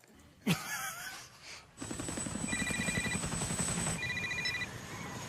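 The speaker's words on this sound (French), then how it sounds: "elle trouve enfin un téléphone et elle appelle papa et maman" A telephone rings in a disaster-film scene set in a parking garage after an earthquake, with a steady electronic ring pattern following a sharp impact, heard over a dense rumbling background.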